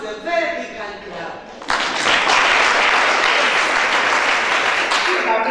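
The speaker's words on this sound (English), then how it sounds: "please welcome with a very big hand clap" Voices and room sound give way to a sudden burst of loud, sustained applause from an audience at a university human rights competition, welcoming a judge and holding steady to the end.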